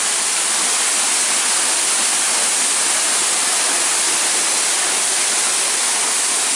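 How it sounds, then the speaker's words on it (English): A waterfall on Oregon's Eagle Creek Trail roars in a constant, dense broadband rush, loud and unbroken, with no voices or other sounds. "at the waterfall"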